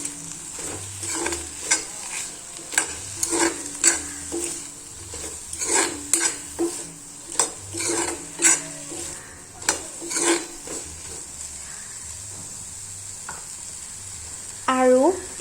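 Ground chilli, coriander and garam masala being stirred into a sizzling mixture in a pan, a regular series of sharp spoon knocks and scrapes over continuous frying hiss, close and clear.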